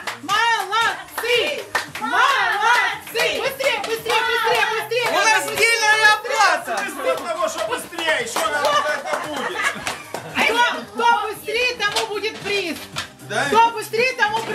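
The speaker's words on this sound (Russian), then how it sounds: "А все хлопают. Дружно, дружно, дружно." A group of children and adults claps in unison at an outdoor winter family gathering, making steady, loud rhythmic clapping under excited talk and laughter.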